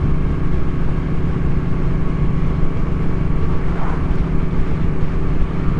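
Riding a Triumph Street Triple 765 RS motorcycle brings a constant loud roar of engine and rushing wind, dense and unbroken from start to finish, with no voices.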